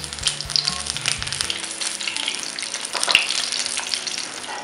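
Eggs sizzle steadily in a hot pan as a pinch of turmeric goes on top, a continuous crackling fry close by with a few sharper pops and faint scraping, no voices.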